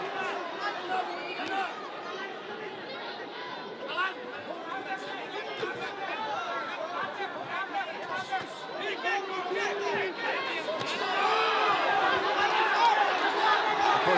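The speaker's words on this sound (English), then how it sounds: "The crowd reacting." A boxing arena crowd in Manila murmurs and stirs during a professional bout, a dense hubbub of many voices that swells toward the end while a commentator talks over it.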